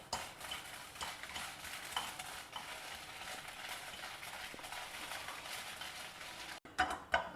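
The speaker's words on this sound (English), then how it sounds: "We'll dry roast all the chillies also." Whole dried red chillies, including Byadgi chillies, dry-roasting and being stirred in a pan, giving a soft continuous rustle and scrape at a steady level, with a couple of sharper knocks near the end.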